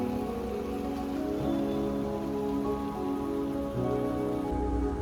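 Heavy rain pours at a stone temple site in Karkala, a constant, close patter of drops hitting hard surfaces, mixed with a droning engine hum and no one speaking.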